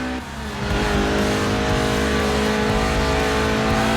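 A mid-engined 1990s Lotus Elise roadster in the racing game Forza Horizon 4 gives a loud, sustained engine note that holds a steady drone and rises slightly after a brief dip at the start.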